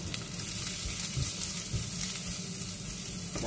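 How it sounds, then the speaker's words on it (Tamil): Onions sauté in a pan with a steady close sizzle and frying crackle, joined by a few stirring scrapes, with no talking. "வதங்கிக்கிறேன்"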